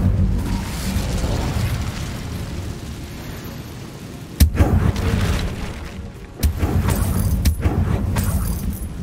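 Incendio fire spell cast in Hogwarts Legacy, two sharp fiery bursts about two seconds apart erupting over a dense, steady rumbling game background with no talk.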